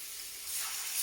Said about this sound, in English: We're just going to actually pan fry this.